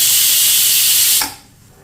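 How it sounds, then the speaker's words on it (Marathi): Loud steady hiss of a pressure cooker whistle releasing steam while tomatoes cook, holding strong then cutting off abruptly near the end into quiet. "कुकरला आपण तीन ते चार शिट्यांमध्ये टॉमॅटो शिजवून घेणार आहोत"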